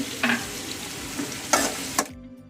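Two byadgi chillies and a piece of ginger fry in a pan for paneer masala gravy, giving a close sizzle with a few sharp scraping stirs before it cuts off.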